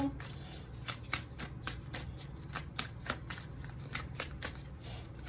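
Tarot cards are shuffled steadily near the listener, a rapid riffling flutter that repeats in even bursts with no voice over it.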